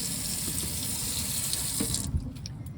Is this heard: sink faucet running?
yes